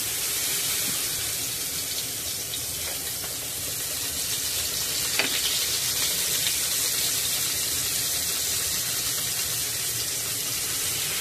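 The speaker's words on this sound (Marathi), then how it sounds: "आता आपण त्यामध्ये मेरिनेट झालेले राणी मासे घालून घेऊया" Marinated pink perch frying in hot oil on a flat pan, giving a steady soft sizzle with faint kitchen clatter and a brief knock midway, heard alone.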